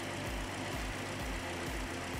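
A car engine idles roughly because of a faulty crankshaft position sensor, giving a faint, low, uneven throb that pulses in a regular shaking rhythm, heard alone.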